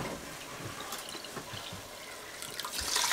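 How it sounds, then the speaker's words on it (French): Water poured into a pot for one-pot farfalle, a soft, steady splashing trickle close by that grows slightly louder toward the end. "Et on va rajouter de l'eau."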